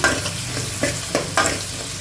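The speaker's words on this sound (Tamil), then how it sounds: "கொத்தமல்லி இது எல்லாமே போட்டு நல்லா வதக்கிக்கலாம்" Coriander and spices sauté in hot oil for a Tamil fish kuzhambu with anchovies, giving a close, loud continuous sizzle with three distinct stirring scrapes at a slow, irregular pace and no voices.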